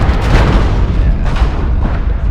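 A heavy booming impact from an incoming missile hit in the mech combat game MechWarrior Online, a loud sustained rumbling blast with a second swell.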